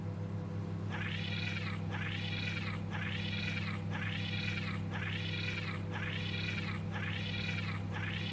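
A cat girl in the video game Voices of the Void meows over and over in a steady, evenly spaced rhythm, with seven or eight loud, similar calls riding over a constant low electrical hum.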